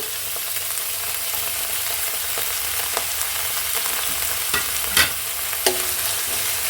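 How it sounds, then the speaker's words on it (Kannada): Chopped carrots, beans and fresh green peas stir-fried in a pan, a steady loud sizzle with scraping stirs and a couple of sharper clacks of the spatula, no talking. "ಸ್ವಲ್ಪ ಚೆನ್ನಾಗೆಲ್ಲ ಫ್ರೈ ಮಾಡ್ತೀನಿ"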